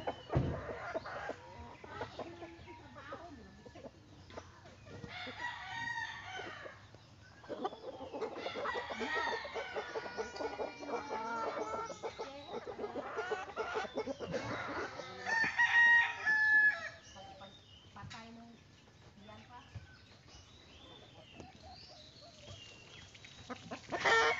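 Backyard flock of pasture-raised chickens, including a Japanese rooster, clucking steadily with a rooster crowing several times, farm ambience throughout and no talk.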